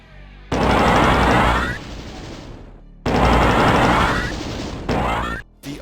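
Plasma rifle from the video game DOOM firing energy blasts in two long loud bursts, each a dense stream of rapid shots that cuts off abruptly, followed by a shorter burst and a final blast, with no talk.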